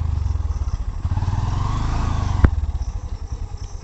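A motorcycle labours on a muddy, waterlogged off-road track, its engine chugging in rapid uneven pulses that surge and fade, with a sharp clank partway through.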